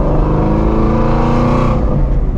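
Deep, throaty exhaust drone from a Ford Shelby GT350 on a late-night drive, heard from inside the car as a steady, loud rumble with layered tones that shifts slightly in pitch.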